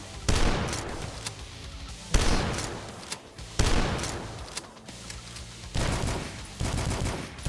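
Enemy gunfire in the retro first-person shooter game Dusk: repeated loud bursts of shots in clustered volleys with short gaps between them, alone without talk.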